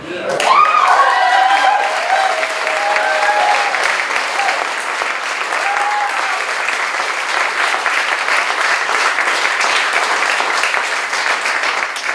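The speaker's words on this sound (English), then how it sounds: "Let's give him another round of applause." A crowd at an election party gives a long, loud, sustained round of applause that stays steady from start to finish, with a few voices cheering briefly near the beginning.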